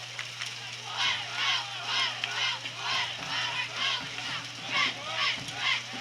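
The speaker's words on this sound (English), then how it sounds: "You can hear the Lincoln Cardinal cheerleaders trying to cheer their team on to a victory." High school football cheerleaders for the Lincoln Cardinals chant in rhythmic bursts during a Lincoln vs Grant game, with crowd noise behind them and a steady low hum throughout.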